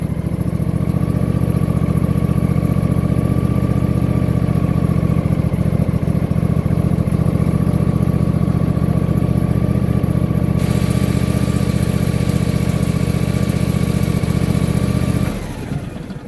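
A John Deere LA175 lawn tractor engine idles close by with a steady, loud droning hum and a loosely mounted muffler, then cuts off abruptly near the end.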